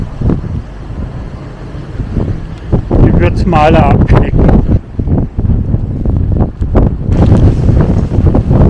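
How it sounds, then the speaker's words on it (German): Strong storm gusts of around 80 km/h roar through a garden in February, a loud, steady rushing wind that buffets the microphone beneath a person talking throughout. "jetzt geht der Sturm so richtig in Fahrt. Wir haben jetzt wieder Böen so um die 80 Stundenkilometer"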